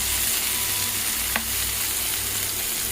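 Onions frying in hot oil with cumin seeds in a home kitchen, a steady continuous sizzle throughout with one brief sharper crackle partway through, close and alone with no talking.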